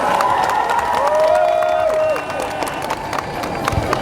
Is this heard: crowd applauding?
yes